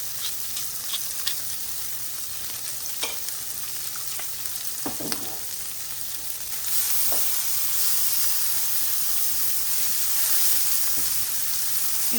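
Tomatoes sizzle in a hot pan after salt is cracked over them, making a steady frying hiss with occasional pops that grows louder and brighter partway through.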